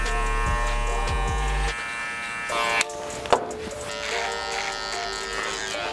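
An electric beard trimmer buzzes up close while shaping cheek lines of a beard, a steady high hum that shifts in tone as it meets the hair, with brief handling noises partway through.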